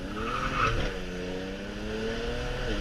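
A BMW 335is E92 with a DCT gearbox launching hard from a dig, its engine droning steadily and rising in pitch as it accelerates, heard from inside the car over a constant road roar.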